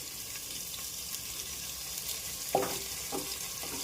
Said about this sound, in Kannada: ಕಟ್ ಮಾಡಿರೋ ಒಂದು ಈರುಳ್ಳಿ ಸಣ್ಣದು, ಈರುಳ್ಳಿ ಒಂಚೂರು ಫ್ರೈ ಮಾಡ್ಕೊಳ್ಳೋಣ